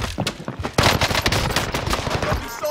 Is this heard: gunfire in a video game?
yes